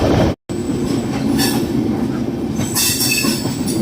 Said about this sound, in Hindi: उससे पहले कुंभ एक्सप्रेस का क्रॉसिंग होने वाला है, तो चलिए क्रॉसिंग को दिखाते हैं।